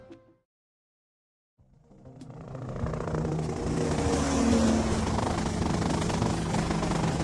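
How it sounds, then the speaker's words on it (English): A helicopter arrives in the video game GTA Vice City: after a short silence its engine and rotor noise rise quickly into a loud, sustained roar. "that's them in the chopper"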